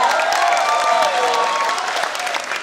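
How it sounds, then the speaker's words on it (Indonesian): A concert crowd at a show in Kuala Lumpur applauds loudly and continuously, with scattered cheering and voices carried along in the clapping. "Boleh tepuk tangan sekali lagi buat semuanya."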